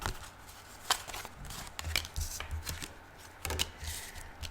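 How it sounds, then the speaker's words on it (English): Archangel Power tarot cards by Doreen Virtue being shuffled by hand, close-up, with uneven bursts of riffling and soft slaps of the deck over a few seconds, no talking. "If you don't like the shuffling, please fast forward."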